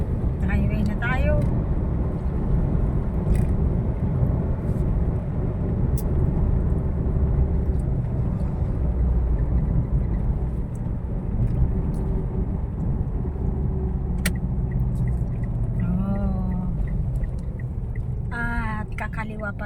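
Car cruising along a highway near Candon City, a steady low road and engine rumble running throughout, with people chatting inside the cabin over it.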